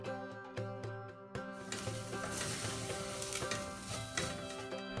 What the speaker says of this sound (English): Then add 1 tablespoon of all-purpose flour and mix for 2 minutes.